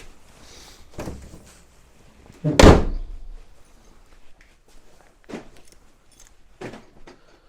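Doors of a VW Touareg being shut, a few thuds and one loud close slam, with softer knocks and shuffling footsteps around the car.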